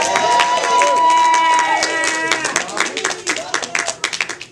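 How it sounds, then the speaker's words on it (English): Audience at a charity penny auction breaks into clapping and cheering, loud at first and then thinning into scattered claps, with voices talking over it. "Big round of applause for Robert again."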